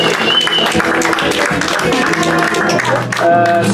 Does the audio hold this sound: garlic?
no